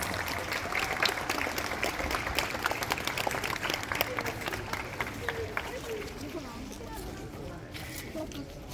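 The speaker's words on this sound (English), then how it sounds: "give them a warm hand of applause" Warm applause from a crowd of staff and guests at the first-day opening of a shop, a steady dense patter of clapping throughout, with some voices and movement mixed underneath.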